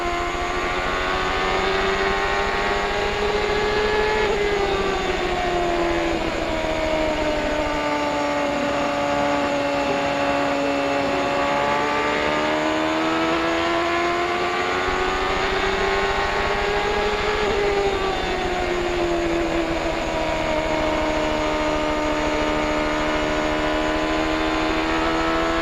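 Onboard with Robbie Gordon's CART race car at the Milwaukee Mile in 1996, the engine screams loudly and continuously, its pitch rising and falling in long sweeps through each lap's straights and corners.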